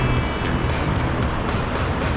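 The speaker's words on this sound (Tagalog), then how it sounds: "Ngayon medyo wild yung pasag ng alon sa gilid." Rough waves splash and wash along the shore in a continuous loud roar of surf, with repeated bursts of spray breaking through the steady churn.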